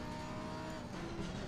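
Lamborghini Huracan Super Trofeo GT3 race car driven at Monza in Assetto Corsa Competizione, its engine droning loud and steady up close with a slight rise in pitch, no talking.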